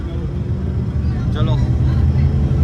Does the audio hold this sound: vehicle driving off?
yes